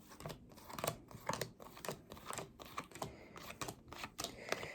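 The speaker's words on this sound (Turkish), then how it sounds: "Hemen şöyle bir kartlarımı açıyorum." Tarot cards are handled and laid out up close, giving a string of soft, quick papery taps and flicks in an irregular rhythm, quiet with no voices.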